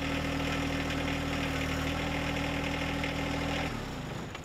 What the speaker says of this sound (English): we just raised the loader to its max height